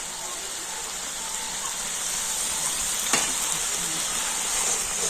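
Two spoons of sour curd go into a pan of sizzling spice masala in oil, producing a steady hiss of frying with one sharp spatter partway through.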